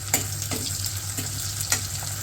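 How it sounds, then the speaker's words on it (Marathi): Chopped onion fries in a pan under a steady sizzle, with a few sharp scrapes and clinks of a spatula at irregular intervals and no voices. "त्यामध्ये आपण कापलेला कांदा घालावा. कांदा चांगला लाल होईपर्यंत परतावा."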